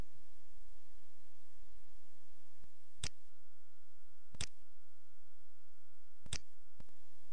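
A computer mouse clicks in accounting software, with three sharp, distinct clicks spaced about a second or more apart, plus a couple of fainter ticks, over a quiet steady background hum and no talk.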